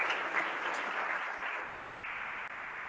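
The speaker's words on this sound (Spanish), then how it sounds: "Un aplauso." An audience applauds steadily for about three seconds to close a panel discussion on jury trials, a dense, even wash of many hands clapping that tapers slightly toward the end.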